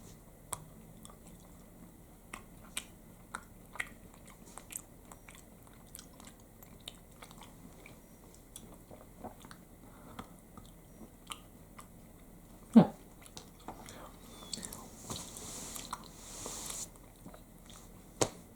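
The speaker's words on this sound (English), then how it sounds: "I have to take another bite of the truffle chocolate" Biting and chewing Norwegian milk chocolate with a truffle filling, close and quiet: soft, moist mastication clicks run through the clip, with one sharper bite near the middle and a denser burst of chewing toward the end.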